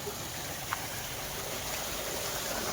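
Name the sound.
water flowing from a well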